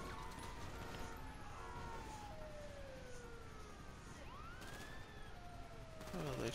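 A police siren wails in Grand Theft Auto V during chaotic road gameplay, rising and falling tones sweeping over a steady engine-like rumble, fairly faint with a burst of gunfire-like crackle near the end.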